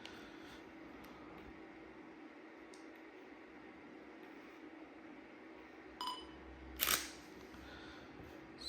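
A Yongnuo 50mm f/1.8 lens autofocuses on a Nikon camera in a quiet room. Two faint, brief mechanical whirs and clicks sit over a low background hiss.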